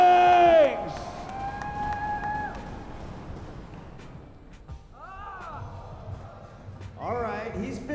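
A live crowd at the Battle of Hastings finals, a competitive event, cheering and roaring in a large hall, with a sustained wash of voices that swells again near the end while people shout over it.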